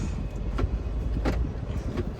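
An automatic car shifted into reverse and backing up, with a steady close engine rumble and a few brief clicks and knocks over it.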